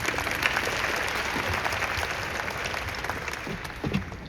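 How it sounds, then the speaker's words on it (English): Hackathon audience applauding the organizer during final project demos, a continuous dense clapping crowd at moderate level with a few louder claps near the end. "Give a round of applause for the organizer."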